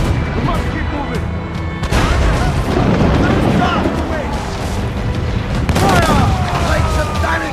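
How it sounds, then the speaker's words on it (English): Mortar fire and explosions during a naval battle in Assassin's Creed Black Flag, heavy booms and crashing blasts layered with rumbling debris, loud and continuous, with shouted voices of the crew heard over the din. "Mortar incoming!"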